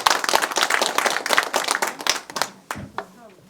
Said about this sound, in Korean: 우리 나인수 교수님 발제에 감사드리는 의미를 담아서 큰 박수 부탁드리겠습니다.